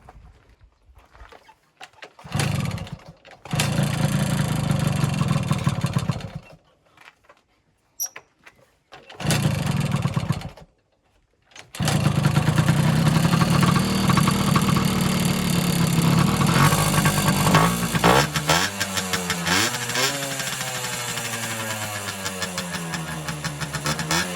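A small engine on a piece of junk equipment cranks in several short bursts separated by silence, then catches and settles into a steady, loud, close idle with slight revving wobble.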